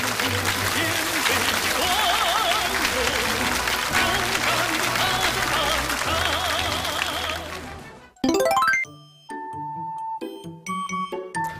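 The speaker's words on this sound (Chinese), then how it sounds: "再一次掌声感谢李刚老师给我们带来的精彩开讲" A studio audience at a televised lecture show applauds in sustained, full clapping for about eight seconds, then it cuts off and a bright chiming jingle plays.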